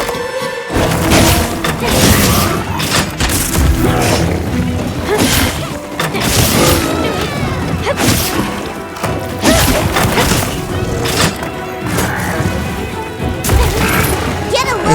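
Heavy melee combat from a charge blade's charged attack combo in Monster Hunter Wilds: dense, loud crashing impacts, thuds and booms follow each other nearly continuously, with game music and effects layered underneath.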